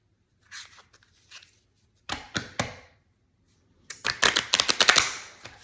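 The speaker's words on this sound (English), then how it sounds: "I'm gonna cut the deck" Playing cards being cut and shuffled by hand, giving short crisp riffles and snaps in small bursts, near and clear, ending in a quick run of rapid flutters.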